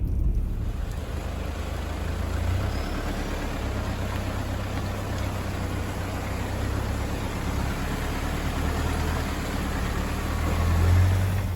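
A 4WD fords the Crooked River crossing: a steady, close engine rumble mixed with the broad wash of water, continuing for the whole stretch and swelling slightly near the end, with no voices.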